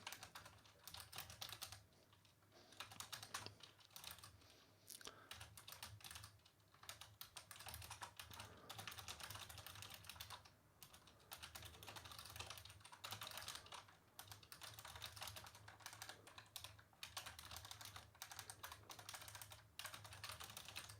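Computer keyboard clattering steadily as code is typed in the Go programming language during a live coding session, with quick irregular keystrokes and short pauses, fairly faint and without speech.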